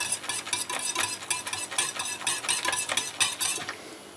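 A spoon stirs water in a pot, swirling it into a whirlpool for poaching eggs, with rhythmic clinks and scrapes against the metal at close range before the motion eases off.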